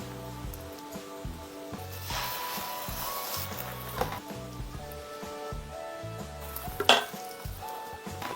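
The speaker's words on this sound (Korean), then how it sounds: "자글자글하는 소리에 군침 돌지 않습니까?" Seaweed pancake (gim-jeon) frying in a pan, a steady close sizzle crackling throughout with light clinks of a utensil against the pan and a sharper scrape near the end, no talking.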